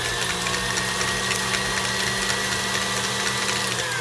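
An electric kitchen mixer whirs steadily as it blends bananas and eggs in a bowl, a constant close motor drone with a slight gear rattle and no talking.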